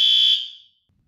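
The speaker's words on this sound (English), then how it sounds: "The damn fire alarm start going off." A fire alarm sounds a single loud, piercing high-pitched beep that cuts off sharply and leaves near silence.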